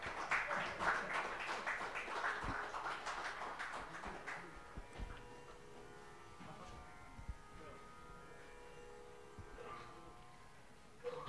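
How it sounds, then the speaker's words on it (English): Applause from a cultural programme audience for the classical musicians, moderately loud at first and tapering off, with a voice talking over it. "a thunderous applause and action replay with that"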